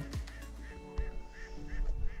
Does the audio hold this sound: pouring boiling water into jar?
no